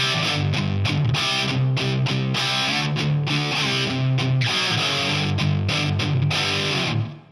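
Electric guitar power chords strummed through heavy distortion, thick and sustained with rhythmic chord changes, loud and close, playing alone until an abrupt stop at the end.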